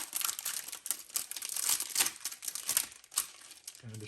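Plastic packaging of a pack of regular marshmallow Peeps being torn and ripped open, a close, dense run of crinkling and tearing bursts lasting several seconds, with no talk.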